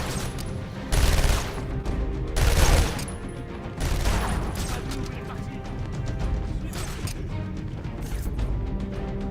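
Henchmen firing guns in Batman Arkham Asylum: loud bursts of rapid gunfire in several volleys, strongest in the first few seconds, then a sustained rattling clatter. A voice is heard now and then amid the shooting.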